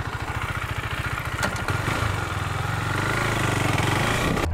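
A KTM 390 Duke motorcycle engine runs steadily close by with a rapid low putter, holding a firm idle and rising slightly in pitch toward the end, with no talk over it.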